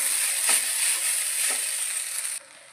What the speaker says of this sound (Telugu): ఇలా వేగినాక మనం ముందుగానే ఉడికించి పెట్టుకున్న రైస్ను వేసుకొని కలుపుకోవాలి.